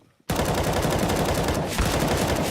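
Rifle gunfire in the video game Counter-Strike during a match at ESL Impact Katowice 2023, a sudden loud burst of rapid automatic shots after a brief quiet moment, sustained and close, with no talk.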